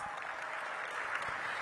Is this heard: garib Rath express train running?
no